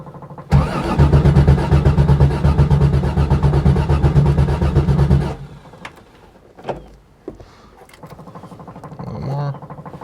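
A Corvair-powered Baja Bug engine cranks and catches, running loud and steady for about five seconds before cutting out, followed by scattered clicks and a brief whirring attempt near the end.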